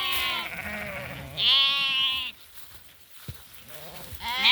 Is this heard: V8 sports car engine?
no